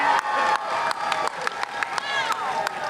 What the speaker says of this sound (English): How about another giant round of applause for these two incredible people?